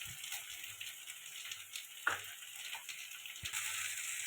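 Ginger paste sizzling in hot oil in a pan, a faint steady fry hiss broken by a few soft knocks and stirring scrapes, quiet and close, with no talk.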